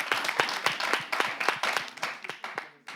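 A small group claps in a fairly regular rhythm, distinct individual claps at moderate volume that thin out toward the end.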